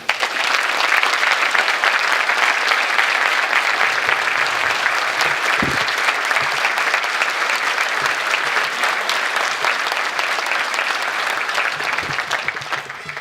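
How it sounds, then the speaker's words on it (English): Sustained audience applause at a sheriff's office awards ceremony, a dense, steady wash of clapping from many hands that holds loud and even for the whole stretch, tapering slightly at the end. "Please join me in a round of applause for all these team members."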